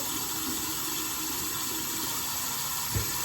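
Steady running tap water rinsing a face at a sink during a second wash after lathering with Dermalogica Clearing Skin Wash, a continuous close hiss of flowing water with a small splash near the end, no speech.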